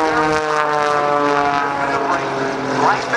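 Patty Wagstaff's aerobatic propeller plane roars past show center at an airshow, its engine drone loud and steady with strong tonal harmonics and a slight swell as it passes, with faint talk over the top.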